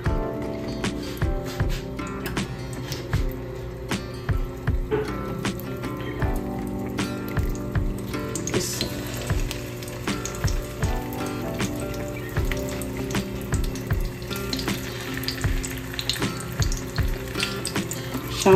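Shami kebabs frying in a pan of oil over a medium flame: a steady close sizzle and crackle, punctuated by irregular soft taps and pops as pieces are set down.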